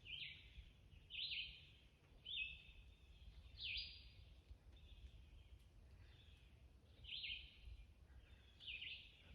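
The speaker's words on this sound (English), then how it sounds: "And the birds chirping." Birds chirp outdoors in the woods on a sunny day, a series of short, bright calls repeating every second or so over a faint low rumble, fairly quiet and distant.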